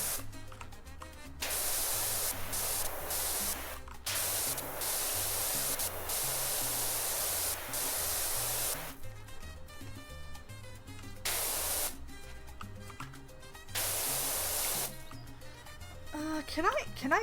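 A pressure washer sprays in PowerWash Simulator 2 as a loud hissing jet that cuts in and out in bursts, with a low musical bed running underneath.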